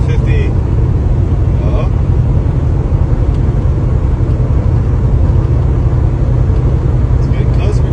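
A 1993 Ford Bronco on the move, heard from inside the cab: a loud, steady low rumble of engine and road noise that runs unbroken throughout, with a brief voice near the start.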